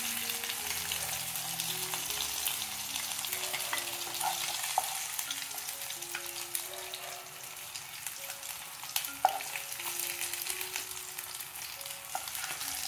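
Spicy Andhra-style fish kebabs shallow-frying in oil on a tawa pan, a steady close sizzle and crackle running throughout at moderate level, with faint background tones and no talking.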